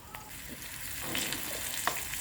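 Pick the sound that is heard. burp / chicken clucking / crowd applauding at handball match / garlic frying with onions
garlic frying with onions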